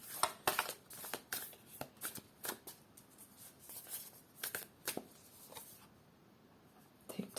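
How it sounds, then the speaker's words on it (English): Tarot cards being shuffled by hand, some of them sticking together, giving soft irregular riffles and paper flicks that sound close and quiet, with a short lull before a final riffle. "I really feel like I need to shuffle them a little bit better"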